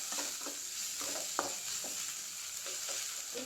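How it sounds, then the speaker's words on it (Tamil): Ginger garlic paste sautéing in hot oil, a steady bright sizzle with a few soft scraping stirs of a spoon against the pan, continuous and close with no talking. "ஒரு ஸ்பூன் ஃபுல்லாக இஞ்சி பூண்டு பேஸ்ட், அதை நல்லா எண்ணெய் பெரியற அளவுக்கு பச்சை வாசனை போகிற மாதிரி வதக்கி விட்டுக்கோங்க"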